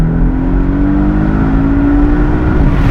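A 2016 Porsche 718 Boxster S with a variable geometry turbo engine accelerating, a loud, steady rising engine drone with rolling road noise, heard from inside the car.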